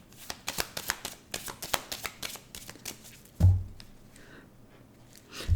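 A deck of Lenormand cards is shuffled and cut by hand, a close run of quick crisp riffling flicks followed by a soft thump and a brief pause, with no talking.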